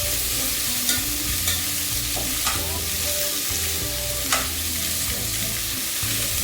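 Onions sauté in a small amount of oil for tomato kuzhambu, a continuous close sizzle broken by several sharp spatula clinks and scrapes against the pan, with steady low hum underneath and no talking.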